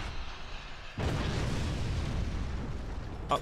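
Weapon fire and a booming explosion in the video game Forts, an abrupt loud blast that rolls on as a sustained rumble, ending with a brief sharp burst.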